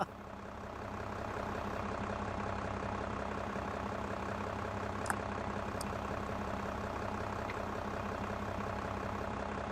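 A tractor engine idles steadily in a farming simulator game, a low continuous rumble with a constant mechanical hum throughout, broken only by a couple of brief faint clicks midway.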